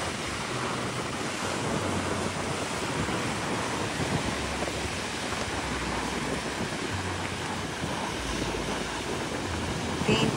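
Strong ocean waves crash and roar continuously along a coast in Japan. The loud, steady surf is blended with wind buffeting the microphone.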